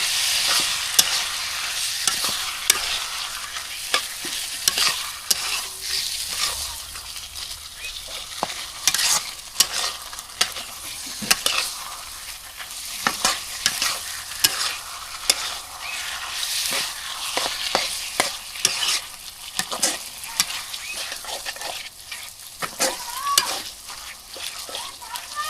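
Chopped local potatoes stirred into frying spice masala, with repeated scraping and clattering strokes over a continuous sizzle, close and busy throughout.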